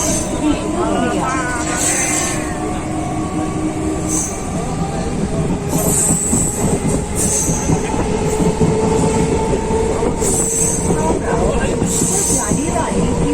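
Katwa–Howrah local train running near Bandel Junction, a loud steady rumble of wheels and carriages with periodic high squeals from the rails, while people talk and an onboard announcement plays.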